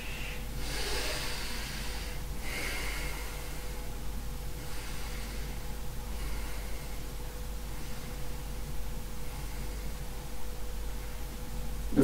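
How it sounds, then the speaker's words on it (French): Nasal exhales during a Qi Gong warm-up breathing exercise, mouth closed, heard as a few soft breathy snorts early on over a steady low hum. "Je fais juste le bruit pour que vous compreniez que j'expire."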